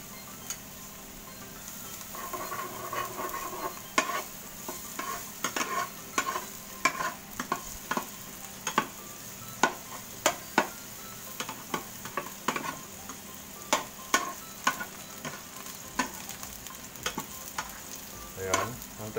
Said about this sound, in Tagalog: Okay, mainit na yung kawali. Lalagyan na natin ang garlic.